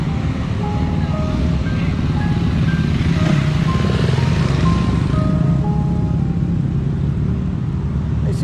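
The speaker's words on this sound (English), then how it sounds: "Just traffic everywhere." Busy road traffic rumbles through the village of Cushendall, a steady dense engine drone with passing vehicles and a faint melodic chime like an ice cream van, loud and continuous throughout.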